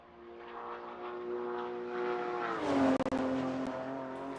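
A Porsche laps a track in a racing simulation game, its engine a steady, harmonically rich drone whose pitch dips and shifts partway through, with a few brief sharp clicks near the end.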